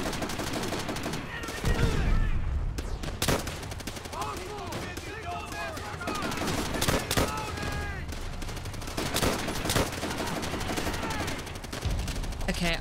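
Rapid gunfire in Call of Duty World at War on Xbox: repeated close, sharp bursts of automatic and single shots over nearly thirteen seconds, loud throughout, with some talk mixed in.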